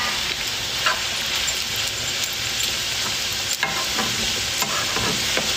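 Meat fries in a pan, a loud continuous close sizzle with occasional crackles and stirring scrapes, with no one talking.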